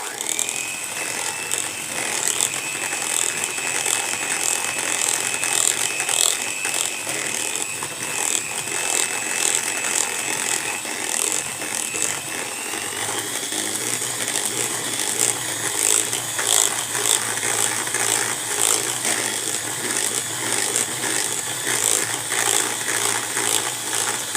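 An electric mixer beats orange cake batter with egg, sugar and orange zest, giving a loud, steady mechanical whir with rattling beaters that runs unbroken throughout.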